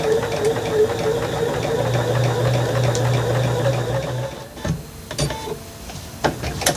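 Sewing machine stitching quilted corner seams on a Christmas project, a steady close mechanical whir with a low motor hum for about four seconds, then stopping and giving way to scattered handling clicks and taps.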